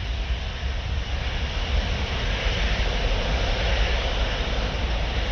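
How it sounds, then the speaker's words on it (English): A Boeing 787 jet at full power on its takeoff roll at Paris Orly, runway 08, giving a loud, steady, broad engine roar that holds without a break. "There we go, lifting the nose of the runway, shooting in the air, beautiful."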